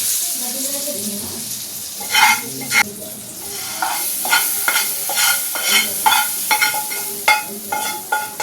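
Hot tempering poured into a chutney bursts into a loud close sizzle, followed by repeated scraping stirs and clinks in an uneven rhythm.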